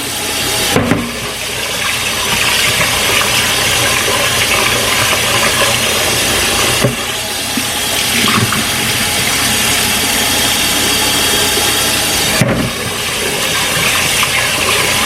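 Tap water runs into a bowl while starch is rinsed off food in a kitchen, a loud steady gushing stream that goes on throughout, with brief clunks of handling at a few points.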